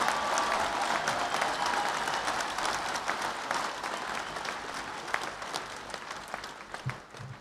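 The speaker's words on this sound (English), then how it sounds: "Round of applause, please, for the graduates with the doctoral degrees." Sustained applause from a large audience at a graduation ceremony for doctoral graduates, dense and even clapping that fills the room and gradually thins toward the end.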